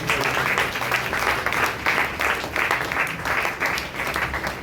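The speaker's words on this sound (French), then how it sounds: "Est-ce qu'on peut acclamer très fort?" A church congregation claps and cheers loudly during a Sunday service, a dense, continuous wave of applause with rhythmic surges that fills the room throughout.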